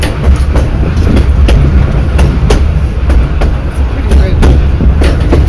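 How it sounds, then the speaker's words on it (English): A train on the Cumbres line passes close by, loud and continuous, with a rhythmic clickety-clack of wheels on rails and a heavy rumble beneath it. "if you look on that side, the train's on your side right now"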